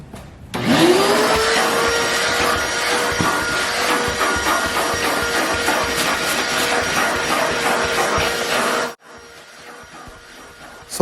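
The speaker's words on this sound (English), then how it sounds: "So the first thing you want to do is vacuum the floor mat, that way you can get it cleaned up as much as possible." A vacuum cleaner starts with a rising whine and runs steadily and loudly while cleaning a car floor mat, then cuts out near the end, leaving a quieter hum.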